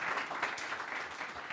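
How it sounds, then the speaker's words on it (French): Room audience applauding a guest named Frédéric at a business talk on exporting, a brief, even burst of many people clapping, moderately distant and steady. "On applaudit Frédéric"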